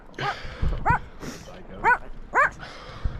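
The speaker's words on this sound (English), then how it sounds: "Cool dog." A dog lets out a few short barks and yips beside a lake while on a canoeing trip, about four separate calls spaced irregularly and fairly close, with quiet outdoor background between them.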